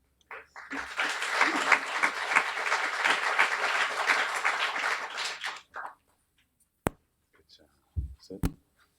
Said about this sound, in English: let's have a warm round of applause